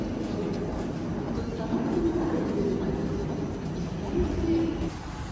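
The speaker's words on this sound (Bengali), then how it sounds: "ট্রেন অলরেডি চলে আসছে।" A passenger train pulls into a station in Russia: a steady, fairly close rumble of rolling wagons with faint squealing tones over it, continuous for a few seconds.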